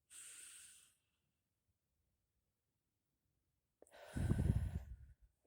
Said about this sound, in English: So let's do some breathing